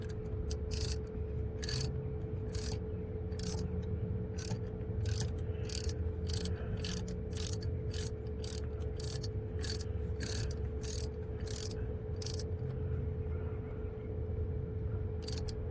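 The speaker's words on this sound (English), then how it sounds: "10mm socket wrench, and you're going to need extension, a little short extension for this part." A 10mm ratcheting socket wrench on a short extension works on the crankshaft position sensor of a 2018 Kia Forte. Bursts of crisp ratchet clicking repeat steadily for about fifteen seconds, heard close over a low steady hum.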